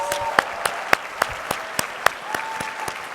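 Sparse clapping at a closing plenary, sharp individual claps landing in a loose, regular rhythm about every quarter second, fairly loud and close, with faint background murmur between them.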